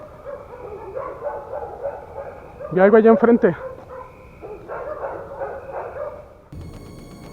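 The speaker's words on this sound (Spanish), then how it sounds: "Ah, malditos perros." Dogs bark in a short burst of several loud yelps outdoors at night, while someone speaks quietly before and after them.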